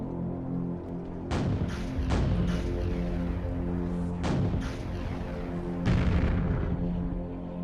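Grenade launcher blasts go off in a video game, about five deep booming explosions in irregular succession, each with a rumbling decay, loud and close.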